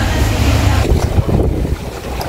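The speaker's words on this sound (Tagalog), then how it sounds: "Malakas ang hangin." Strong wind blowing by the sea in Rovinj, Croatia, a loud steady roar buffeting the microphone with rushing gusts and no voices.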